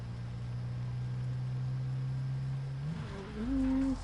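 A car in the video game Call of Duty Cold War Zombies drives along with a steady engine drone, then revs up as the pitch climbs and shifts near the end, loud and close with no talking.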